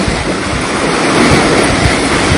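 Strong sea waves surge and wash onto a beach at Atimon, Quezon, a steady broadband roar with wind buffeting the microphone, loud and continuous with no voices.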